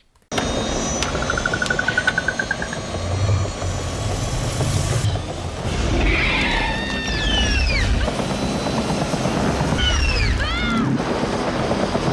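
A helicopter's rotor chops steadily over dense, rumbling engine noise, with whistling tones and swooping squeals rising above it, loud and continuous, as the helicopter malfunctions.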